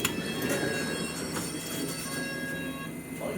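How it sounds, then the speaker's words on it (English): A London Underground Metropolitan line train rumbles and hisses at Liverpool Street, with a steady broadband roar, faint wheel squeal and metallic ringing from the rails throughout. "This is a Metropolitan line train to Aldgate."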